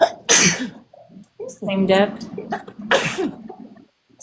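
Two sharp, close sneezes a few seconds apart, with someone speaking briefly in between.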